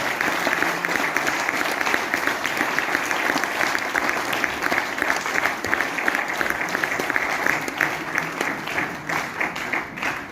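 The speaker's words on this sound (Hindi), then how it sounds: "तालियां कब तक बजनी होती है पता है?" A crowd at a business seminar in Meerut keeps up a long, even round of clapping, many hands blending into a loud continuous patter that holds steady before easing slightly at the end.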